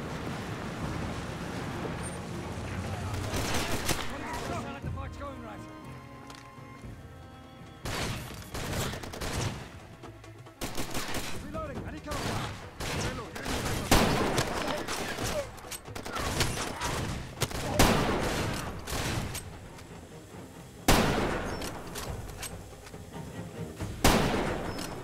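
Gunfire in the shooter game Far Cry 2, repeated loud bursts of shots and fusillades across a long firefight, some rapid volleys, others single cracks, close and dominant throughout.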